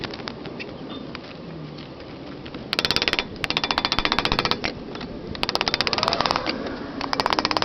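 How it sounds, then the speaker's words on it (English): Rapid metallic hammering drives a CV axle out of a car's wheel hub, coming in dense bursts over a constant outdoor background hiss, with occasional birdsong. "next thing I'm going to do is hammer this out of the hub"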